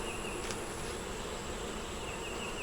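Honey bees swarm over the underside of a brood frame during a hive inspection, filling the air with a steady, close, continuous buzz, and no one speaks.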